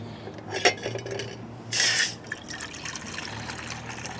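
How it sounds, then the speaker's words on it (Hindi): Water is poured into a cooking pot for soup during winter car camping at minus 13 degrees, a short splashing gush with faint clinks of cookware around it and no talking. "पानी डालते हैं।"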